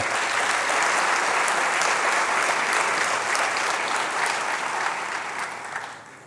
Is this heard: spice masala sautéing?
no